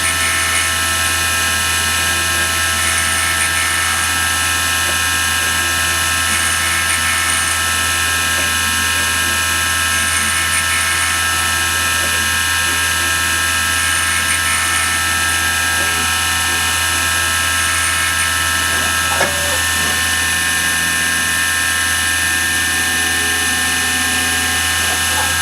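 A milling machine's end mill cuts a metal brake bracket for a Bultaco motorcycle, giving a steady, loud whining grind that continues without a break and has a few small shifts in tone.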